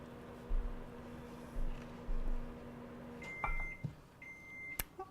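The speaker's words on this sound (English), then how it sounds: "Let me turn off our microwave" A kitchen microwave oven gives two short electronic beeps in a row, clear and close, against low appliance hum and a few soft kitchen knocks and thumps, with no talking.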